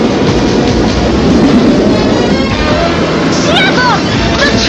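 Cartoon train approaching, a loud continuous rumbling roar with rising whistle-like squeals near the end, under excited voices.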